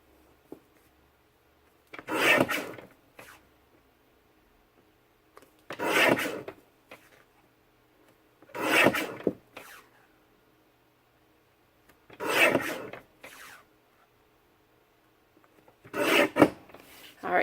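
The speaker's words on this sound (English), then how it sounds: "just line those marks with the edge of the blade on your trimmer" A paper trimmer blade slicing printed artwork elements, five separate rasping cuts spaced a few seconds apart, close and clear against near silence.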